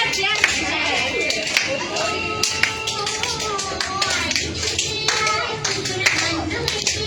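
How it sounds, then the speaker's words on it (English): An audience claps for a children's dance performance in Chandannagar, with irregular, close hand claps and taps continuing throughout over a murmur of voices. "Clap. A big clap."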